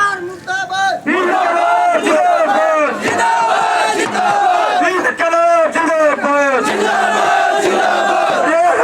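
A protesting crowd of unemployed youth on strike shouts slogans back in loud unison, a dense, roaring chorus of many voices rising and falling in rhythmic bursts, near and overwhelming.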